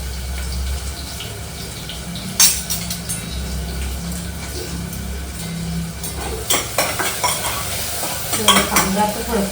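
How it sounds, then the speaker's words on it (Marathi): Chopped onion and garlic fry in hot oil for a chicken dish, a continuous sizzle broken by sharp scrapes and clatters of stirring against the pan. "कांदा आता थोडंसं परतवून घ्यायचं आहे लाल रंगापर्यंत."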